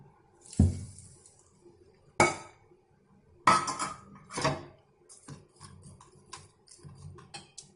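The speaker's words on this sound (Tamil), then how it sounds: "இதை அப்படியே இதில் கொட்டுறோம். தாளிச்சு வச்சிருக்கேன்." Oil tempering with mustard seeds, urad dal and curry leaves is tipped into instant mango pickle and mixed. Sharp metallic and glassy clinks from spoon and bowl come in irregular bursts, close and clear.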